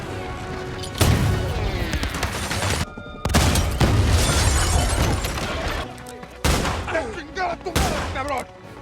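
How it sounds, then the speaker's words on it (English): Explosions and gunfire roar through a western film's town battle, loud and dense with crashing blasts, booming impacts and rapid shots over a sweeping orchestral score, broken by two brief drops near three and six seconds. "Explosions, gunfire, and arrows erupt as the town becomes a battlefield."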